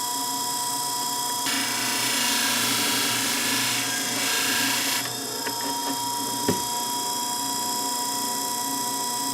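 A shear blade polished on a Scimech Jr flathone sharpener makes a constant low motor hum, then a louder rushing grind for a few seconds that stops abruptly, followed by a single sharp click.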